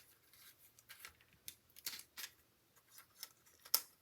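Scissors snip paper circles for a gold and vanilla Christmas card, a quiet series of short, crisp cuts spaced irregularly, close by, with no talking.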